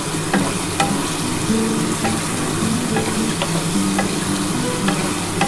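Masala sautés in oil for a rohu fish curry with potatoes, a close, steady sizzle broken by repeated clicks and scrapes of a spatula stirring in the pan, with no one speaking.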